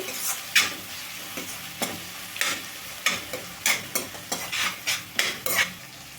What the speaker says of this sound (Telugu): ఇప్పుడు చిన్న చిన్న ముక్కలుగా కట్ చేసి పెట్టుకున్న టమాటా ముక్కలను అయితే వేసుకుందాము టమోటా ముక్కలు కూడా బాగా సాఫ్ట్గా మెత్తగా ఇందాకైతే వేయించుకోవాలండి